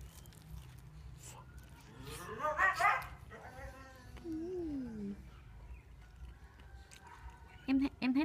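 A dog at a countryside market whimpers and lets out a few short yips and barks, fairly close, while people talk and chat nearby throughout.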